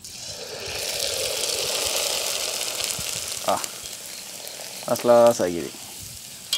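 A traditional sun-dried rice pappad fries in hot oil with a continuous bubbling sizzle that fades slightly, followed by a few knocks and a voice speaking briefly near the end.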